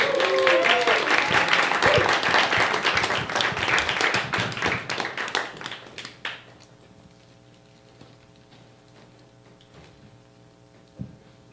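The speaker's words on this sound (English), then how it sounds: "with a big round of applause and so much enthusiasm and love and appreciation" A stand-up comedy open mic audience gives a loud, sustained round of applause to welcome the next comedian. It fades over about six seconds into near silence, broken by a single late clap.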